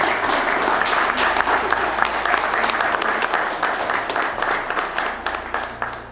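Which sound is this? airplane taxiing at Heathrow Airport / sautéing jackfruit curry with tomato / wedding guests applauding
wedding guests applauding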